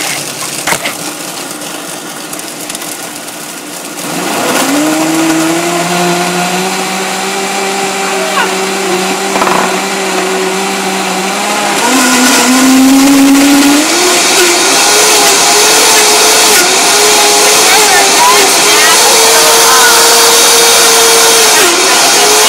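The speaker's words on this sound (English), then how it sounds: "let me get this blended up" A blender whirs loudly as it blends a drink, with a rising motor whine that shifts pitch partway through as the contents churn, running steadily for several seconds.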